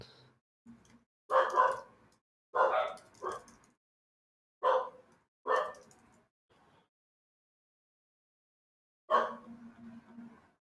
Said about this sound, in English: I hear a barky dog.